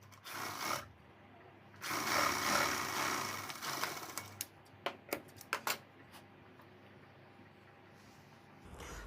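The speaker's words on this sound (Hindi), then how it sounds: "और मिलाने के बाद में एक पैर का दबाव देते हुए हमें सिलाई लगानी है" A foot-pedal sewing machine stitching a blouse, bursts of whirring mechanical clatter followed by a series of sharp clicks and ticks, close by with no talking.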